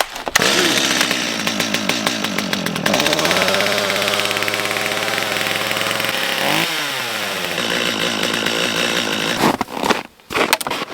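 A pull-started small engine on full choke in extreme cold (-54°) catches and roars, its pitch shifting as it revs and settles, loud and close before cutting out near the end.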